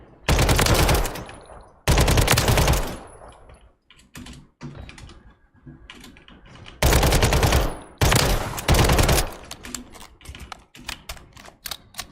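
Bursts of video game gunfire ring out at a firing range, with loud sustained automatic volleys near the start and again around the middle, broken by sharper single shots and quieter gaps.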